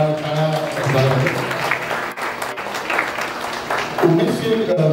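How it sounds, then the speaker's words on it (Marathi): Audience applause fills a crowded hall, a steady wash of clapping with voices talking over it throughout. "जोरदार टाळ्या झाल्या."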